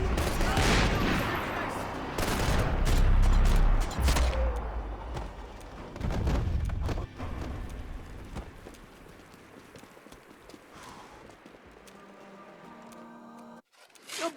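Gunfire in Max Payne 3 on PC: a dense, loud burst of shots and rattling fire over the first several seconds, then sporadic single cracks and quieter game sounds trailing off toward the end.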